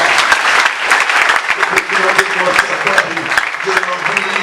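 A church congregation at a Sunday service claps together in loud, uneven applause, with bursts of voices and cheering mixed through the clapping.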